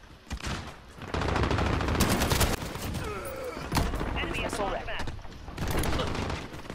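Bursts of rapid automatic gunfire in Call of Duty Modern Warfare multiplayer on PS4, loud sustained volleys broken by short pauses, with a player's voice over it.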